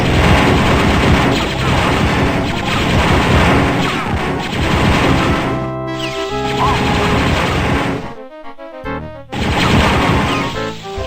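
Blaster rifle fire from Dark Forces rattles in a rapid, continuous barrage, loud and close, cutting out briefly near the end before the volley resumes.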